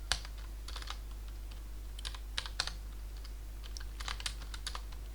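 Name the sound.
typing on a computer keyboard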